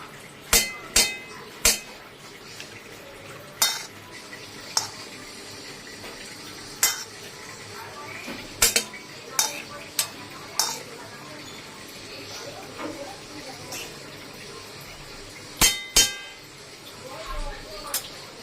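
A spoon stirs rice in ghee in a pan while frying rice, giving a run of sharp metal clinks and scrapes at uneven intervals over a low, steady sizzle.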